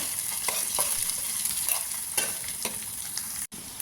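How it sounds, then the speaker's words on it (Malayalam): Coconut pieces fry with ginger, chilli and garlic in a pan, giving a constant bright sizzle punctuated by scraping stirs and one brief cut-out. "ഒരു ടേസ്റ്റിന് വേണ്ടി തേങ്ങാക്കൊത്തും കൂടി ചേർക്കാൻ കരുതി അതിട്ട് ഒന്ന് മൂപ്പിച്ചെടുക്കാം"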